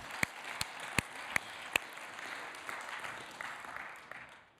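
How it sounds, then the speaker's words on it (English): A community gathering applauds itself: a few sharp, separate claps close by at the start, then a softer, steady patter of many hands that fades toward the end. "I want you to give yourselves a round of applause."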